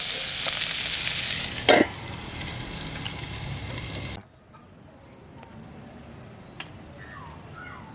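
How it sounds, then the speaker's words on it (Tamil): Jaffna-style mutton bone curry in a pot: loud, close sizzling with a sharp stirring scrape, then it suddenly drops to a faint simmer with a few light ticks. "நல்லா கிளறுங்கோ. கிளறி போட்டு இதை மூடி விடுங்க கொஞ்சம் நேரத்துக்கு."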